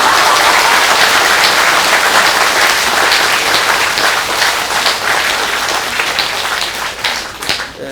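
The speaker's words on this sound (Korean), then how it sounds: "박수 한번 요" Sustained applause from an audience at a Buddhist New Year all-night meditation Dharma talk in Korea, dense steady clapping filling the room, loud and continuous, tapering slightly at the end.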